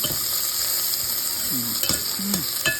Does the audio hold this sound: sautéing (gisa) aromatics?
yes